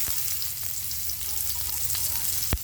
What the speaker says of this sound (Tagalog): Init na yung kawali at mantika. Lagyan na natin yung bawang. And then, sibuyas.